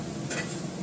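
Bottle gourd hits a hot pan and sets off a brief, close hiss of sizzling, with a quick stirring scrape and no talking.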